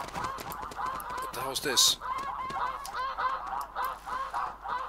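Snow geese honk repeatedly in the video game theHunter Classic, a loud flock chorus of overlapping nasal calls close by, while someone speaks over them partway through.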